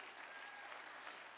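A short burst of steady clapping from a church audience during a sermon, fairly faint and distant, evenly sustained.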